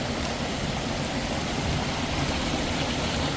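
A mountain stream flows down a valley near a spring, a loud, constant rush of water that runs without a break.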